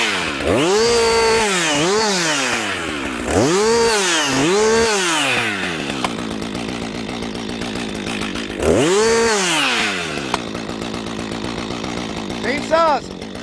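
A chainsaw revs repeatedly to full speed, its loud whining engine climbing and falling in several bursts, then settling into a rough steady run before one more surge; close, with no talk.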